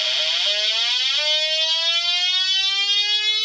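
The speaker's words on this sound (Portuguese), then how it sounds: "hoje nós vamos montar um osciladorzinho que faz barulho de sirene" A homemade electronic audio oscillator circuit gives a siren tone sweeping downward and then holding a steady, buzzy wail, loud and continuous with no talking.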